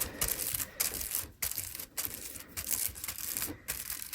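Rapid dry clicking and tapping, dense and continuous with brief pauses, close-up and quiet, as small plastic diamond painting drills are pressed onto the canvas one after another.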